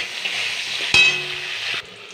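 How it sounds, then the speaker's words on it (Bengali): Bitter gourd and other vegetables fry in oil with salt and turmeric, making a steady close sizzle. A single sharp clink of a utensil against the pan sounds partway through, and the frying noise drops off near the end. "এবার আমি একটু লাল লাল করে ভেজে নেব।"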